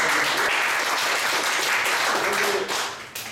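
Lecture audience gives a round of thanks applause to the speaker after a talk, continuous close clapping that thins and fades toward the end.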